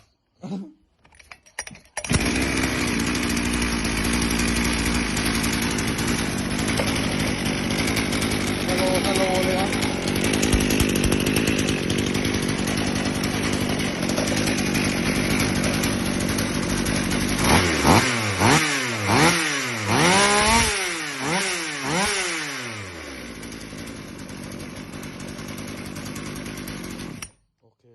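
A Husqvarna 42 chainsaw with a freshly tuned carburetor starts and runs loud and close, holding a steady buzzing idle before repeatedly revving up and down in rising, falling bursts, while someone speaks briefly.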